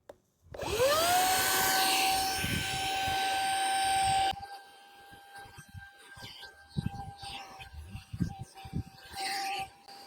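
A compact Outdoor Master Vortex Pro inflatable pump spins up with a rising whine into a steady loud whir, then drops to a quieter hum with tonal whine while a voice talks over it.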